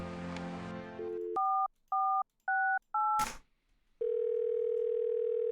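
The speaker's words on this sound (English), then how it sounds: "we've got to call our favorite person on the phone" Telephone dialing in the point-and-click video game Thimbleweed Park: a dial tone, then four crisp touch-tone beeps in even succession, a short click, and a steady tone resuming, loud and clean with no talk.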